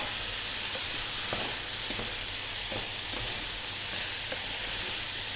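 Bamboo shoots and shrimp with oyster sauce sizzle steadily in a hot pan, a continuous close frying hiss broken by soft scraping stirs of a spatula, with no voices.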